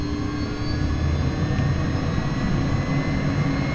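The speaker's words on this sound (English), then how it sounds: "Starting engine number 2." A Cessna Citation Mustang CE-510 light jet's number 2 engine starting up, a steady loud roar with a low rumble and faint high whine, continuous and close throughout.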